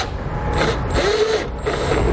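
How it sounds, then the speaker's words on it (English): Self-tapping screw being driven into plastic with a 5/16 nut driver while installing a battery charge line kit on a 2018 Ford Expedition, a close grinding, ratcheting whir in several short bursts with brief pauses between. "we can grab one of the included self-tapping screws and a 5/16 nut driver, and we're just going to go right into that plastic"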